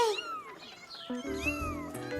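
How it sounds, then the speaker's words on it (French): An angry cartoon cat gives drawn-out, rising and falling yowls and meows, loud and close, with no talking. "Caillou avait peur du chat en colère."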